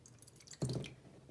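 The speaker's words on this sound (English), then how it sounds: "And now the milk, you're gonna wanna pour into the bowl" Milk poured into a bowl for a magic milk experiment, a short soft splashing gush that starts suddenly and runs for under a second, close and clear.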